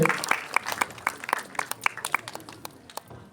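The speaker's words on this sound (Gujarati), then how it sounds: "તાળીઓ થોડી" An audience applauds at a 2024 prize distribution held by a cultural group in Gandhinagar, a scattered patter of claps of moderate loudness that thins out toward the end, with some voices mixed in.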